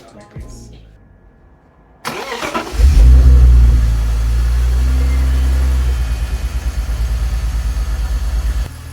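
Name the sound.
BMW E46 engine first start after maintenance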